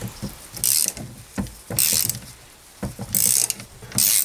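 A ratchet clicks rapidly in repeated bursts of close, loud pawl chatter as it works a special screw loose on a 1954 Panhard Junior, with brief pauses between strokes and no talking.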